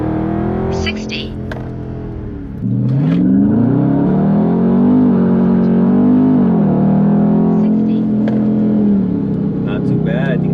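A Dodge Charger 392 Scat Pack in sport mode launches and pulls hard, the engine roar rising steeply through several gear changes, loud and close from the cabin, with a person speaking over it.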